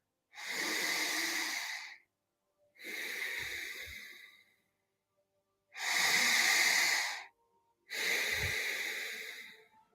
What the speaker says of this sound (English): Start to really take some deep breaths here.